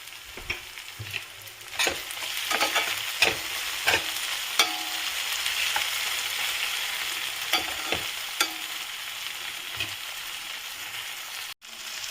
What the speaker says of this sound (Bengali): পেঁয়াজটা আমার সুন্দর ভাজা ভাজা হয়েছে এবারে আমি এতে পরিমাণ মতো নুন দেবো